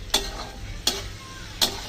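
Tomatoes and onions fry in a pan over a low, steady sizzle, broken by three sharp, evenly spaced scrapes or clicks of a stirring utensil.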